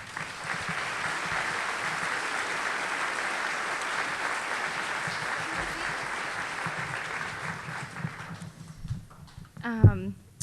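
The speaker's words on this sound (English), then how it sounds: "can we have a round of applause for them?" A school audience applauds students at a middle school orchestra concert, the dense clapping steady and fairly loud for about eight seconds before thinning out, with a voice briefly heard near the end.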